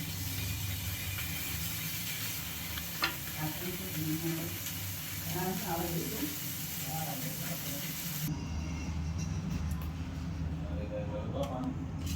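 Paneer cubes frying in a pan give a steady hiss and sizzle that runs throughout, while a person talks over it. Partway through, the sizzle drops quieter and duller.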